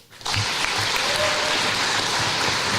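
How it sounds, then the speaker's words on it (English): Applause for candidates at a student civics party convention breaks out after a brief quiet start and then holds as a steady crowd clapping to the end. "Let's give another big round of applause to our candidates."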